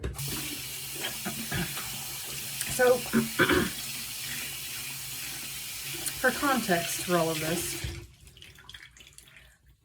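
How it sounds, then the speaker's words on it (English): A bathroom sink faucet runs steadily in the background at home near Pittsburgh while a person talks over it, the water hiss continuing until it cuts off near the end. "if you can hear running water in the background, that's the bathroom sink."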